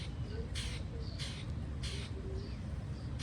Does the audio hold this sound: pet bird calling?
yes